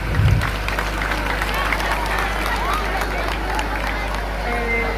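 An audience at a community assembly meeting claps in a dense, continuous patter of many hands, with crowd noise and voices mixed in throughout.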